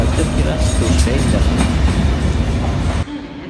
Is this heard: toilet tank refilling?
no